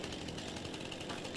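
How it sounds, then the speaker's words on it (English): A chainsaw in Farming Simulator 22 cuts into a tree in Silverrun Forest, its motor holding a continuous, gritty, buzzing drone at fairly close range, with no voices. "Turn the chainsaw around."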